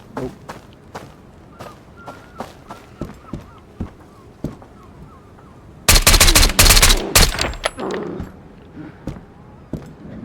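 Gunfire in the video game Road to Vostok: scattered single shots crack at intervals, then a dense, loud burst of rapid automatic fire erupts for about two seconds before trailing off into echoing reports.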